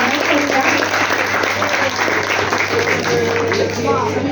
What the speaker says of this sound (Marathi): त्यांचं टाळ्या वाजून आम्ही स्वागत करूया